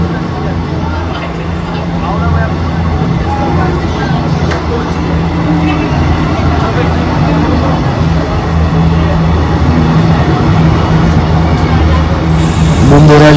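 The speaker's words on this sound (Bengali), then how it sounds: "হচ্ছে আজিমগঞ্জ সাহেবগঞ্জ প্যাসেঞ্জার ট্রেন" The Azimganj–Sahebganj passenger train runs loud and close in a continuous rolling rumble, with voices mixed in. A sharp hiss rises at the very end.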